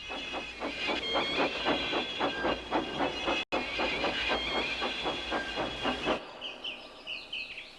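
A steam locomotive puffs in steady, rapid chuffs with hissing steam, loud and close, in a Roblox remake of a Thomas & Friends train scene, ending with a high whistle-like tone as the chuffing stops.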